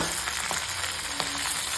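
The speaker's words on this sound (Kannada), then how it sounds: "ಈಗ ಆಯಿಲೆಲ್ಲ ಚೆನ್ನಾಗಿ ಫ್ರೈ ಆಗಬೇಕು. ಚಟಾಪಟ ಅಂತ ಇದ್ರೇ ರುಚಿ ಬರ್ತಾ ಇರುತ್ತೆ" Oil frying in a pan while a festive Ugadi boti dish is prepared, a steady close hiss of sizzling with a few faint clinks.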